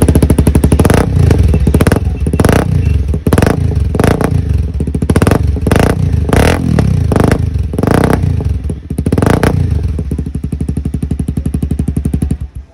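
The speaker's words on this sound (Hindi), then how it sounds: "डीबी किलर लगा के सुनाता हूं" A Honda CBR 250R motorcycle with a carbon exhaust and dB killer fitted runs close and loud, its deep throbbing engine revved in repeated bursts before settling into a steady idle.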